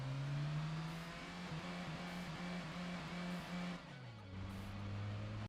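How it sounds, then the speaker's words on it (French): A Toyota Yaris in Gran Turismo 2 accelerating during a driving test, a steady synthetic engine drone rising in pitch with a gear change near the end, moderately faint. "Toyota Yaris, démarrez, arrêtez-vous dès que possible à l'intérieur de la zone d'arrivée"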